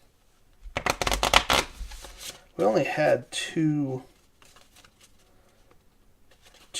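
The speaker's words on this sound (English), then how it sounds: "Shuffle the midday cards into the deck." Board game cards are riffled in a quick burst of crisp flutters, followed by a speaking voice, then soft card handling and light taps.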